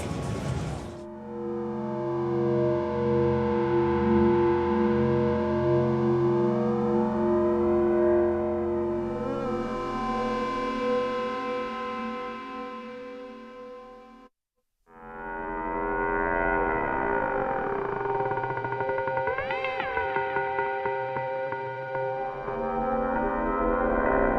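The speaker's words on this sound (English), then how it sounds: "in this preset, you're going to hear the power of the LFOs." A sustained Arturia PolyBrute 12 synthesizer tone sweeps and wobbles in pitch with slow LFO modulation, cutting out briefly midway before a new swirling note takes over.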